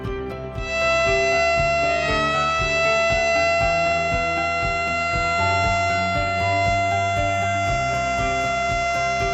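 A siren sounds at the inauguration ceremony for the Pulau Balang bridge linking Balikpapan, a loud, sustained wailing tone holding steady throughout without pause.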